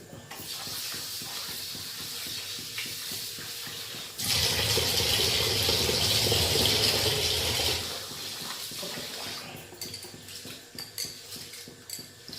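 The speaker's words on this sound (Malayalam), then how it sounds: "ഒന്ന് കഴുകുന്നത് നല്ല വൃത്തിയായിട്ട് കഴുകണം" Rice grains being washed for ghee rice under a running tap, with a burst of splashing water and swirling grains in a metal pot for several seconds, amid clinks of utensils before and after.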